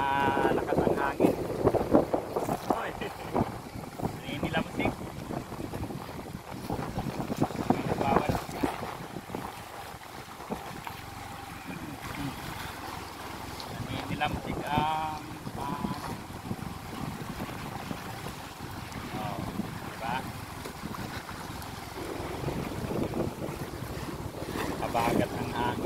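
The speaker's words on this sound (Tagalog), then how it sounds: "Malakas ang hangin." Strong monsoon gusts buffet the microphone in a roaring rush at the baywalk of Talim Island, Binangonan, Rizal, with lake waves and water noise underneath and occasional talking.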